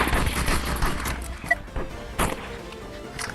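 Rapid gunfire in the Animal Rivals video game, a burst of sharp shots with several louder cracks standing out, close and fairly loud, with no talking.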